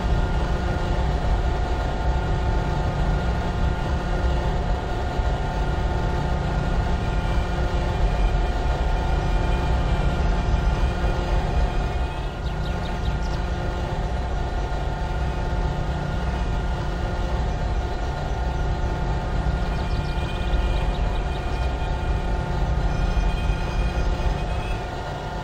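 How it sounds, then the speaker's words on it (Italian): Regional train at Genova Piazza Principe station, a steady, dense rumble of rail and engine noise that fills the whole stretch with no pause, set against a busy station backdrop. "Il treno regionale 21109 delle ore 8:57 diretto a Genova Brignole è in partenza"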